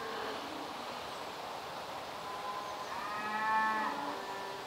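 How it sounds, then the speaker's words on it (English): Cow mooing somewhere across a fishing lake, a single drawn-out low call swelling near the end over a steady outdoor hush of rustling and insects, fairly distant with no voices. "Cow's still going."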